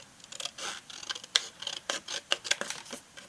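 Larger scissors snip paper repeatedly in quick, irregular cuts, crisp and close, with soft rustling between the snips and no speech.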